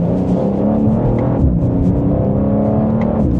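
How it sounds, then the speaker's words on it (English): A 2026 BMW M2 pulls hard from inside the cabin, its engine droning loud and steady with stepped pitch changes as quick gear shifts come in succession, no voices present. "As we get up to speed there, we have those quick shifts"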